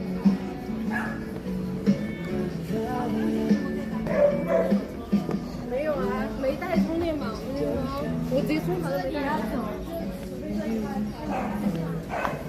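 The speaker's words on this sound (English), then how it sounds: "Do you guys want to go see some animals in here? They got like dogs," Dogs and puppies yip and bark at an indoor animal stall in Chongqing, China, the small high yaps and whimpers coming in bursts beneath steady crowd chatter and nearby talking.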